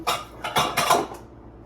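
Plates and dishes clink and clatter several times in quick succession, close by, then the sound stops; no speech.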